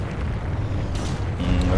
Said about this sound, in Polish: Te strzały, swoją drogą, zobaczcie, one po chwili wybuchają